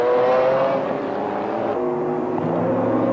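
Ferrari GT race car engine at Paul Ricard during a 1995 BPR Global GT Series round, a loud steady roar holding pitch in a high gear, with a slight shift in tone partway through.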